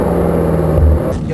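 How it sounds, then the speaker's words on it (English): A 2018 Maserati Quattroporte GTS engine rumbles steadily with a low exhaust burble that deepens briefly on a downshift, heard up close. "Burp out of the exhaust and the downshifts there, I can kind of hear a little bit."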